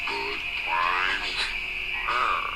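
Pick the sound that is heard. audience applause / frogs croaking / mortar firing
frogs croaking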